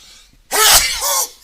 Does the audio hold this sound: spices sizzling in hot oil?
no